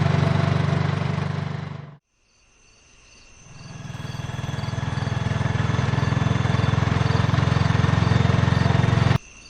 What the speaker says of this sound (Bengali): অটোটা আমার বাড়ির গলির মুখে দাঁড়ালো